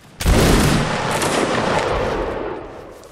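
Musket volley fire in the video game Mount and Blade Napoleonic Wars, Waterloo battle: a sudden loud crackling burst of many shots at once, rolling and echoing for a few seconds before fading.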